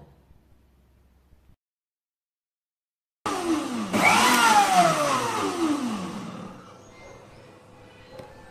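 An electric mixer whirs to blend curd and water into thin buttermilk, starting abruptly after near silence, then peaking and slowly winding down.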